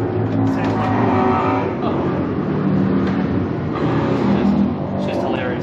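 Road traffic drones steadily past at moderate loudness, a continuous rumble of passing cars near a suburban Australian lawn, with faint talk mixed in.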